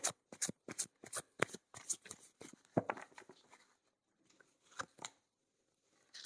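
Tarot cards riffled and shuffled while a card is drawn from the deck, a close series of crisp papery snaps and flicks in quick bursts, thinning out toward the end, with no talk.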